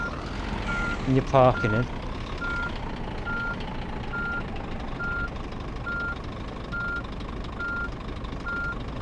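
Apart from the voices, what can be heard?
truck reversing beeps in the video game On the Road truck simulator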